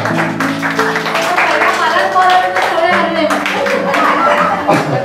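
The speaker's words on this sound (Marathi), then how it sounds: "अरे वा, टाळ्या." Clapping breaks out at a reunion gathering, a short burst of hand claps mixed with lively voices and chatter close by.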